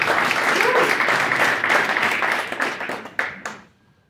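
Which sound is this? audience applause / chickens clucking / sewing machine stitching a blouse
audience applause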